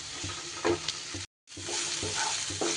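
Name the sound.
spice mix being fried and stirred in a pan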